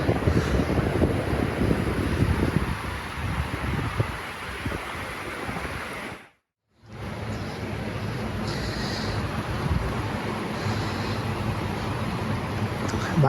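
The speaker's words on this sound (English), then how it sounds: "My own little creek at the Cub Motel." A small creek beside the Cub Motel near the Great Smoky Mountains flows with a dense, steady rushing wash, broken by a brief dropout midway, with a faint hum of highway traffic mixed in and no voices.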